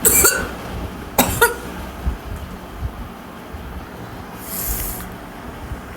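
Coughing comes in short, separate bursts: a quick one at the start, a double cough soon after, and a softer, breathier one later. Quiet background fills the pauses between them.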